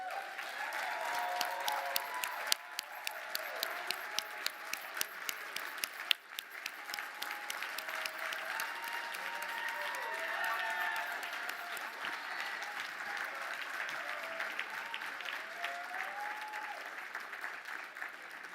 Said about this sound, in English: give her a rousing applause again